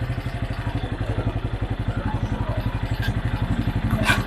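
A Benelli Imperial 400cc motorcycle engine idles with a steady, rapid thumping pulse, close and even, with a brief brighter sound near the end.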